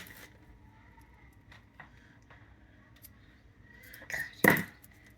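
Scissors cut the end of a wooden-bead rosary cord in a quiet room: a few soft ticks and handling clicks, then one sharp snip near the end. No voices are heard.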